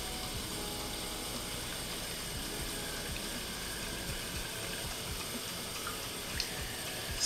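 Water steadily filling a 3D-printed aquaponics bell siphon tank, a quiet continuous trickle and gurgle with small drips, faint and alone, with a slight splash near the end.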